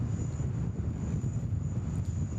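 Gusty wind at Sydney Airport buffets the microphone in a continuous low roar that rises and falls, with a faint steady hum from the airfield underneath.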